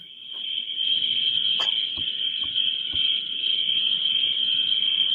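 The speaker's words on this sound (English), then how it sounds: "There was crickets chirping out there" Steady high insect chirring of crickets outside at night, a continuous unbroken drone with a few faint clicks and low rustles beneath it.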